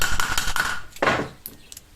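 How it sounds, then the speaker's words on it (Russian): Metal knocks and clanks as the pulley is worked off an air conditioner compressor, a few sharp impacts and a scrape close by, then quieter taps. "Итак, открутили шкив и пробуем его снимать."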